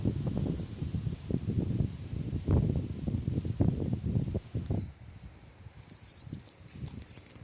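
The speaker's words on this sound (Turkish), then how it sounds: "Baya burası serin ve rüzgarlı." Gusty wind buffeting outdoors in uneven bursts at a village in Birgi, Ödemiş, rumbling against the microphone before easing to a quieter hiss.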